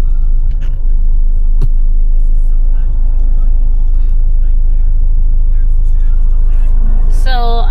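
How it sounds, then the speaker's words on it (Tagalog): A car rolls through road traffic with a constant loud low rumble of engine and tyres, brief sharper noises in between, and a short rising tone near the end. "Inabot kami ng traffic."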